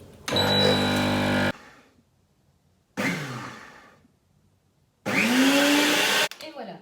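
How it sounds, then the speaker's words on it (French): Vacuum blender first pumping the air out and then blending pesto, in three loud whirring bursts with short gaps between them, heard close up and with no talk. "Donc dans un premier temps ça met sous vide et ensuite ça va mixer."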